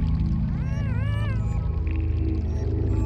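Cat effect meow in Yume Nikki, a single drawn-out wavering meow over a droning game music background, clear and close.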